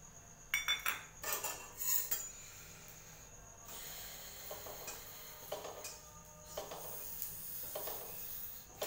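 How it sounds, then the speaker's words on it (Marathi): Poppy seeds dry-roast in a pan, heard as faint, quick clinks and metallic scrapes of stirring in irregular bursts over a quiet background. "हे पहा, आता मी खसखस गरम करून घेते."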